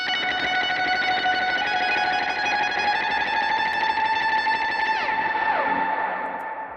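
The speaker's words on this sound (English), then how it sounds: "I'll kick on a higher reverb, higher gain stage overdrive, and I'll do this really, really fast picking part" An electric guitar played through heavy reverb and high-gain overdrive sounds out fast picked notes that blur into a dense, sustained wash, with a pitch bend near the end before it fades slightly.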